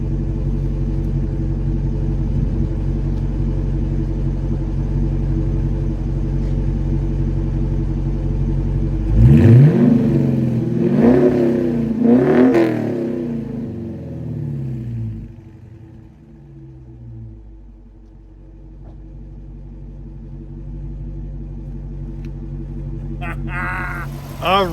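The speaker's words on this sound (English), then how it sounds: "give you a little sample of how this exhaust sounds" A 2019 Dodge Challenger R/T with a 5.7-liter Hemi V8 idles with a deep rumble, then the exhaust blips through three sharp revs that rise and fall in quick succession before settling back to a lower idle.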